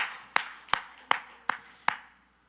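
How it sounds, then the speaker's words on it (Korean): Five sharp, evenly spaced claps ring out in a church, each one distinct and fairly quiet with a short reverberant tail, before the room falls silent. "하나님께 박수를 영광 그를 위해 할렐루야"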